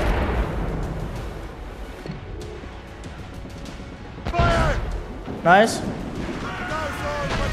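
Ship cannons fire in Assassin's Creed Rogue as a naval battle plays out, booming blasts rising over a constant rumble of sea and wind while someone speaks briefly.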